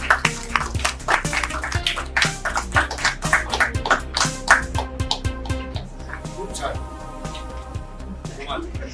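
Applause from an audience at a live Marathi film trailer launch event for 'Vada Pav', a crowd clapping in a steady patter alongside music and a loud voice over a public-address system.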